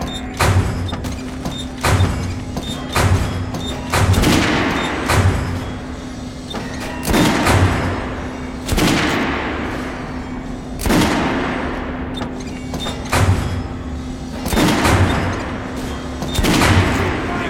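Rifle gunfire in the first-person shooter Metro Last Light Redux, a series of sharp, loud shots at irregular intervals with booming reverberant tails over a steady low game hum.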